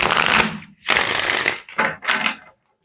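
Herb Crafters Tarot cards being shuffled by hand in four quick riffling bursts, close and crisp, with brief gaps between them and no talking.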